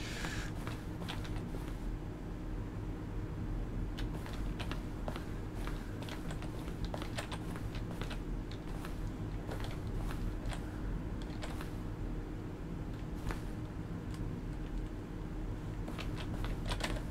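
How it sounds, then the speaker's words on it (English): Button presses from The Stanley Parable, each a keyboard keystroke blended with a synthesized tone, come as a steady run of crisp clicks over a continuous low hum, irregularly spaced and fairly quiet. "Each sound is a mix of keyboard stroke and synthesized tone."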